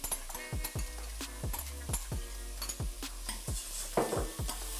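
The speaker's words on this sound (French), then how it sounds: "On vient de mélanger les légumes," Vegetables and lentils being stirred in a metal pot, a spoon scraping and clinking against the sides in a steady rhythm of repeated strokes over a faint sizzle, close and moderately loud with no talking.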